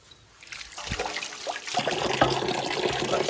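Hands being washed under a running tap: a soft trickle that swells into a fuller, steady splash of water, close by and alone.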